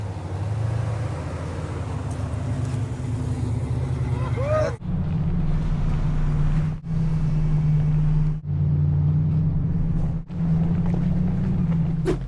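Off-road vehicle engine revving on a trail in the Los Padres backcountry, a loud steady drone that surges in several pulses with brief dips between them.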